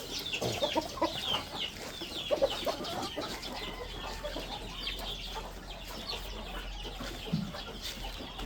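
A flock of backyard chickens clucks and chatters continuously at moderate distance, scattered calls overlapping without talk.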